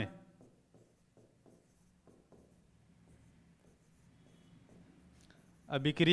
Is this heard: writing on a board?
yes